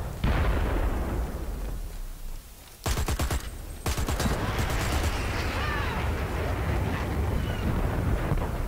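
Automatic M4A1 rifle fire in the Dirty Bomb shooter game, rapid bursts of shots standing out over a dense, loud wash of battle noise and distant blasts.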